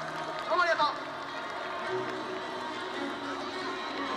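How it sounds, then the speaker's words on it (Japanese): Applause and crowd noise for the superheroes at a Jetman hero show held at Shinjuku NS Building, a soft, diffuse wash of clapping and chatter heard from a distance, with brief high children's cheers early on. "それではスーパーヒーローたちに盛大な拍手をお願いいたします。"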